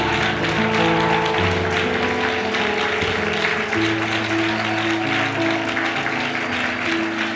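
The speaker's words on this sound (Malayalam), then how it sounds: "നല്ല കൈയടിച്ച്" A worship congregation claps hands together, a dense continuous patter of many hands under sustained keyboard chords and music throughout.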